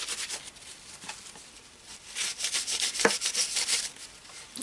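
A tissue rubs wet black paint off a papier-mâché faux sheet-metal surface, making a steady, close, dry scuffing that swells and fades in quick strokes.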